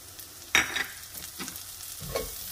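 Garlic sautés in a hot cast iron or stainless steel pan: a brief burst of sizzle as it is stirred, then softer scraping stirs and another short sizzle, quiet and close, with no voices.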